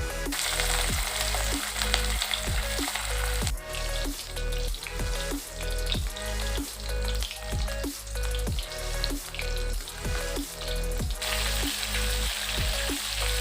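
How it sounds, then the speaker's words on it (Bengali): Steady, loud sizzling of catla fish pieces frying in hot oil, with a dense crackle throughout and repeated soft knocking sounds at a regular rhythm. "একটু আমি কেটে কেটে ভালো করে ভেজে নেব"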